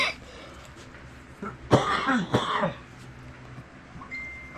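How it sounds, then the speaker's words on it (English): A couple of harsh, close coughs and throat clearing break a quiet room, followed by silence. "Here I go hacking and coughing again."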